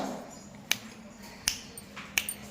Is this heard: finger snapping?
yes